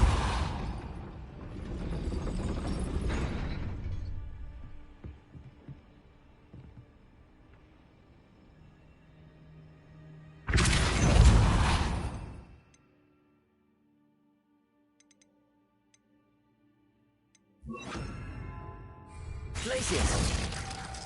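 Spell impacts in Hogwarts Legacy: loud crashing, shattering bursts with mechanical rattling arrive in separate blasts, each a couple of seconds long, with quiet ambience and near-silence in between.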